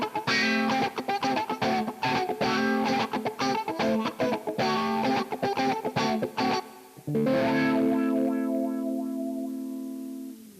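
An electric guitar played through a wah pedal on a pedalboard, its choppy distorted strums sweeping in tone before a final sustained chord rings out and slowly fades.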